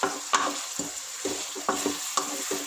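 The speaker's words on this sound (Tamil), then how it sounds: "நல்லா கிண்டி கொடுத்துக்கோ." Onions fry in a pan for a Tamil prawn gravy, stirred in quick repeated scrapes over a continuous close sizzle, with no talk.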